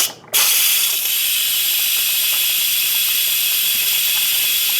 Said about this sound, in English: So now you're going to release the steam.